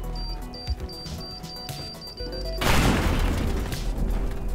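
Bombs blow up in the video game Teardown with a sudden loud burst partway through, followed by a sustained crashing, crumbling roar of debris over low rumble.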